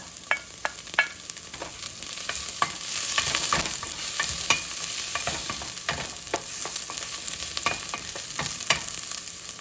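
Onions sizzle in a hot pan for Filipino tinolang manok, a continuous bright frying hiss broken by frequent clicks and scrapes of a spatula stirring, loud and close.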